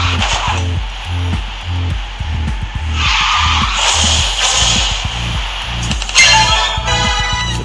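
Car drifting in Garena Speed Drifters, a loud sustained tire skid and squeal over a pulsing engine drone, swelling into a sharp screech near the end.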